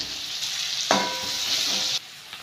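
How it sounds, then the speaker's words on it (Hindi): Fried potato pieces with turmeric and spices hiss in hot oil, a bright sizzle that flares loudly for about a second with a stirring scrape, then drops back to a softer crackle, close by and without voices. "आलू मेरी फ्राई हो चुकी है, मैं इसी में मसाले डाल दूंगा।"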